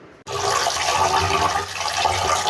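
Water gushes in a steady, fairly loud rush, poured onto semolina batter, starting abruptly and continuing without a break.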